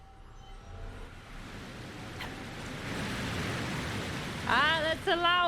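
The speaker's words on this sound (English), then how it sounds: "that's a loud waterfall" A loud waterfall in the video game Dragon Age: Inquisition roars as a steady broadband rush that swells louder over several seconds, with brief chirpy effects near the end.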